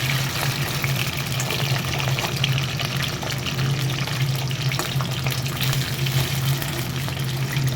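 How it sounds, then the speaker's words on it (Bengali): Steady, continuous sizzling of food frying in hot oil, with a low hum underneath, filling the whole stretch without any talk. "গরম তেল করে নিয়েছি তেলের মধ্যে এগুলোকে ভালো করে ভেজে"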